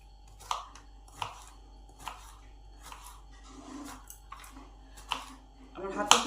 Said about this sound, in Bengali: লক্ষ্য রাখুন যেভাবে আমি কুচো করছি এইভাবে চিচিঙ্গাটাকে কুচো কুচো করে নেবেন